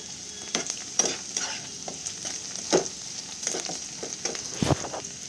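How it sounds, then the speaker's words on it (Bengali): Sliced onions turning lightly golden in oil, a close, even sizzle punctuated by regular scraping stirring strokes of a spatula, no voices. "তো পেঁয়াজটা এরকম হালকা ভাজা ভাজা হয়ে গেছে।"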